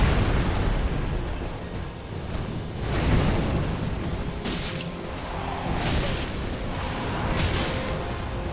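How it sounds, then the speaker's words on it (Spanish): Firecrackers bursting outside on a street, heard as repeated broadband blasts around three, four and a half, six and seven seconds over a steady noisy background, fairly loud and without speech. "¿Se cuelan los petardos?"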